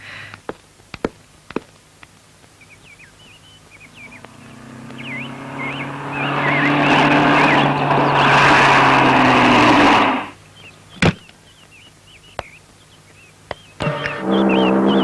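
An old, rickety car engine starts up and runs with a loud, steady droning hum for several seconds before cutting off abruptly, surrounded by birdsong and scattered sharp clicks.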